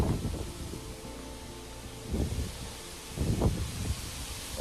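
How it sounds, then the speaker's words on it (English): Wind blowing outdoors gusts against the microphone at a garage building site, with a rough low rumble swelling in several buffeting surges over a steady airy hiss. "that wind is blowing good"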